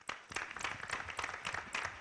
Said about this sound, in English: You guys can hold the applause